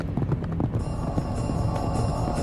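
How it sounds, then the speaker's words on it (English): Soldiers' horses gallop in pursuit, a rapid, close run of hoofbeats thudding steadily over a short stretch with a low rumble beneath. "Their fast horses were gaining steadily."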